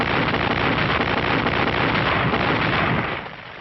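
A high-trajectory artillery duel from a 1945 war film: a dense, continuous rumble of booming fire and blasts, loud and muffled with a dull old-soundtrack tone, easing off at the end.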